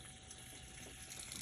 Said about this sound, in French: marche, on entend la pompe